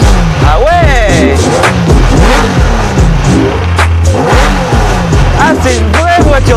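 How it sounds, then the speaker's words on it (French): A loud race car engine revs repeatedly in sharp bursts, close by, with voices talking over the roaring and popping exhaust. "Ah c'est une vraie voiture de course!"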